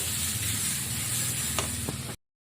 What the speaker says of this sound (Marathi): मी कढई आणि फ्राय पॅन या दोन्हीमध्ये खरडा भाजत आहे